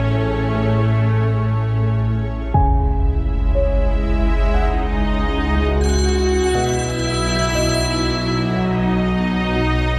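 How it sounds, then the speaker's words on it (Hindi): A phone ringtone plays continuously as a melodic, musical tune, loud and close, with no voices over it. "प्लीज अबरार फोन तो उठाओ"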